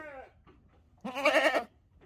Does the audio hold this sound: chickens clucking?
no